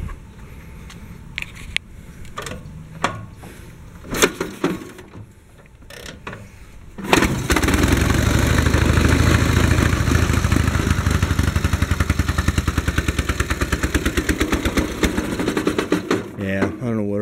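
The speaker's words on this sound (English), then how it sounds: "That's a neat old bike. Doesn't fire up quite as fast as like one of my 101s" A 1940 BMW R12 motorcycle engine struggles through several cranking attempts with short bursts, then fires up and settles into a loud, rhythmic idle. Talk is heard during the starting attempts.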